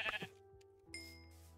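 Sheep in the Minecraft video game bleat loudly in a short wavering call, then a second steadier bleat follows, with the game's music tones running underneath.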